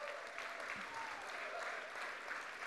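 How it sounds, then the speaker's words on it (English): Audience applause for volunteers at a church gathering, steady and dense but fairly distant and soft, lasting the whole moment without a break. "can we give those volunteers a round of applause?"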